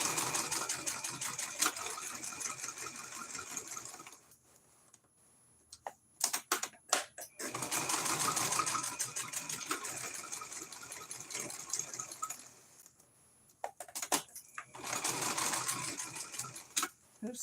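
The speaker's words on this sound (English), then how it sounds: "Back stitch." A sewing machine stitches a fabric coaster in bursts of rapid mechanical whirring, with quiet pauses between runs filled by short clicks and handling of the fabric, close up and with no talk.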